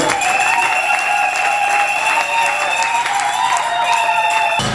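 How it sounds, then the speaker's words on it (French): A United Methodist church congregation claps in loud, sustained, dense applause that fills the room for the whole stretch. "Acclamez encore le Seigneur."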